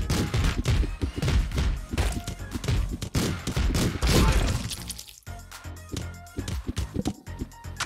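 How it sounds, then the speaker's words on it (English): Rapid video game gunfire with heavy thuds and crashes, loud and dense for several seconds, then thinning to scattered sharp shots and impacts toward the end. "I hear gunshots."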